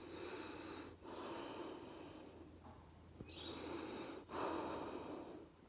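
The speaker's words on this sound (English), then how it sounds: "I'm just going to show you my now normal nasal breathing" Normal breathing through the nose, close and fairly quiet, in slow alternating inhales and exhales with soft airy hiss and a sharper snort-like breath near the end, with no talk.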